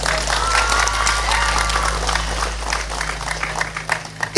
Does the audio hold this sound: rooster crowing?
no